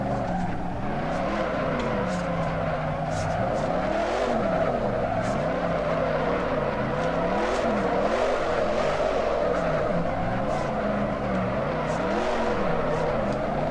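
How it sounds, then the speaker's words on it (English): A Dodge Charger in the racing game Assetto Corsa, its engine over-revving loud and close, the pitch wavering up and down across the run with steady roaring intensity and no talk. "I kind of have to over-rev the car."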